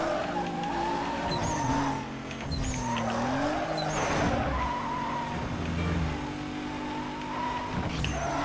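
A car drives hard in Need for Speed Most Wanted, its engine droning and rising and falling in pitch while tires squeal and skid repeatedly, loud and close, with no talk.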